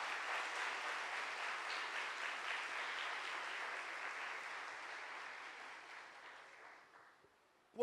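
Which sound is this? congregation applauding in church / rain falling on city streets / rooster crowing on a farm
congregation applauding in church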